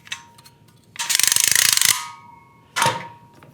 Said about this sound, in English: This is where I'm going to put some torque on the clamp, and you do get torque when you clamp up.